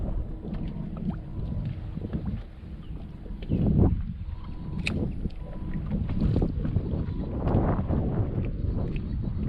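Wind gusting outdoors on a lake while fishing for crappie, a rough, buffeting rush over the microphone that stays loud and steady throughout, with a brief surge partway through.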